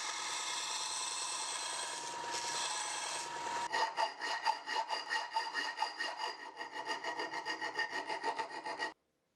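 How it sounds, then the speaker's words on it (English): Rapid rasping strokes of a file against scrap-metal knife steel, rhythmic and close, following a steady grinding hiss of a 4x36 belt sander. "I'll finish profiling the knife using my 4x36 belt sander and some files."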